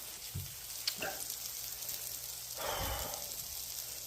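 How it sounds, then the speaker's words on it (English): Eggs and tomatoes frying in a pan, a quiet steady sizzle with a few soft pops and a swell of louder hissing near the end, heard close and alone. "I'm now just doing a couple of eggs and some tomatoes"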